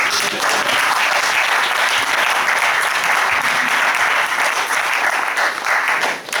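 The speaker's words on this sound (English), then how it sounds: "So give yourself a round of applause." Wedding guests at a reception break into a loud, dense round of applause during the groom's speech, continuous clapping and crowd noise holding steady throughout.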